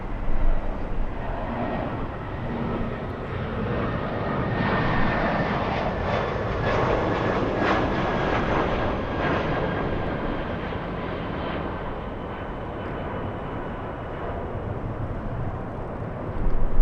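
Jet airliners taxiing at Los Angeles International Airport on a gusty day give a steady, distant engine roar and whine that swells in the middle and then eases, with no talk over it.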